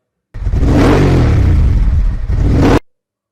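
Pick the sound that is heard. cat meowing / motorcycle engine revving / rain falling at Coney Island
motorcycle engine revving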